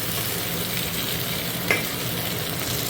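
Fish sizzles and spits in hot oil in a home kitchen pan, a continuous soft crackle with one brief sharp scrape or stir near the end, no voices.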